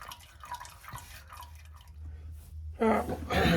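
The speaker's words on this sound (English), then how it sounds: "Since I've got the transfer case draining" Fluid drains from the transfer case of a 1999-2003 Ford F250 with the 7.3 Powerstroke, dripping and trickling faintly in a garage, then pouring more steadily and loudly near the end.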